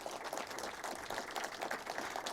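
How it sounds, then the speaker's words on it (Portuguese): Applause from an audience at a municipal legislative committee meeting on economy and consumer rights, a short, steady burst of clapping that fills the whole moment. "Vocês podem bater palmas se vocês quiserem."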